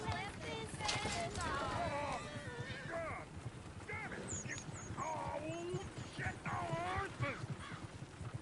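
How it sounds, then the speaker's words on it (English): Horses gallop in the Red Dead video game, a rapid, continuous clip-clop of hooves with a brief whinny, while voices talk over the hoofbeats throughout. "Damn horses!"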